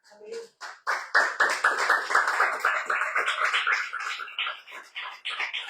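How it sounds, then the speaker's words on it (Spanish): Congregation at a church service clapping in a steady, rhythmic beat, loud and close, with voices mixed in. "¿Quién le da un aplauso al Señor,"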